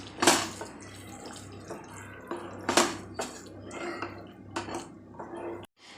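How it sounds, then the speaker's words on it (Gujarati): Paneer pieces are stirred into a shahi paneer gravy in a pan, with repeated scraping and clinking of a spoon against the metal at close range, broken by a few sharper knocks, and no talking. "અહીંયા આપણે પનીરના પીસ ઉમેરી દઈશું એને પણ આપણે ગ્રેવી સાથે મિક્સ કરી દઈશું"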